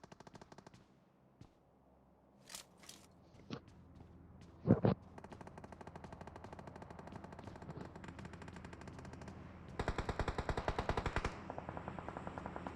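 Video game gunfire with a sniper in play: scattered sharp shots early on, then a long stretch of steady rapid automatic fire that grows louder and denser toward the end, no talk over it.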